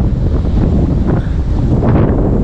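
Wind buffeting an outdoor microphone in a cool countryside spot, a loud, continuous rumbling roar with gusty surges throughout.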